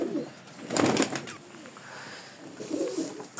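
A pigeon coos softly nearby, a low throaty burble repeated a couple of times, with a brief rustle or flutter in between.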